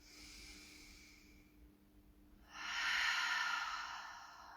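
Slow, deep yoga breathing: a long soft exhale through the nose fades out, followed by a louder, airy breath a moment later, close and quiet.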